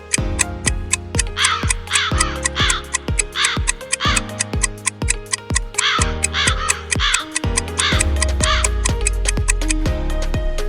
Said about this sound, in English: Yes, it's a crow.